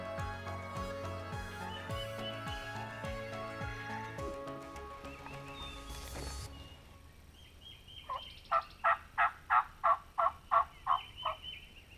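A wild turkey tom gobbles back, a rapid rattling burst of about ten pulses at moderate distance, heard after a stretch of steady rumbling background noise.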